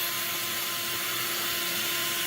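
A vacuum draws air out of a balloon with a steady, loud, broadband roar and hiss that holds unchanged throughout, close by and with no voices.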